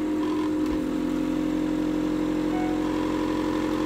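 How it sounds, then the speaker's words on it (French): A vacuum sealer pump drawing air from a food container in a kitchen, a steady close motor hum with a constant buzzing drone that holds evenly for several seconds. "je tire la tête d'aspiration et je pose sur le joint"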